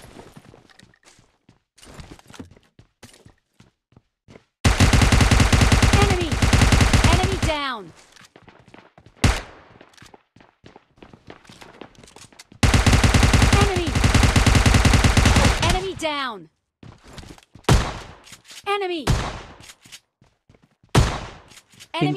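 Automatic gunfire from an Uzi and a shotgun in a video game, two long sustained bursts of rapid shots, each ending in a ringing tail, with scattered single shots and faint footsteps between.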